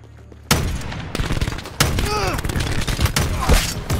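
Rapid, dense gunfire from a sniper rifle match in the video game Black Ops 4, loud booming shots with crackling reverberation and layered game effects packed into a few seconds.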